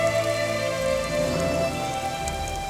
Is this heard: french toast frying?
no